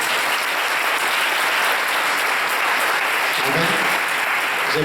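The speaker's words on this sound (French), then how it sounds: "Je n'ai pas demandé qu'on applaudisse Dieu." Loud, dense applause from a church congregation, continuous and even throughout with no gaps, voices faintly mixed into the clapping.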